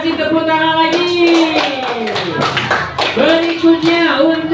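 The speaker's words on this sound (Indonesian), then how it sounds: "kasih tepuk tangan lagi" Clapping for a student in a classroom rings out in sharp, rhythmic hand claps, close and loud, mixed with children's raised voices and a sung, chant-like tone running over the clapping.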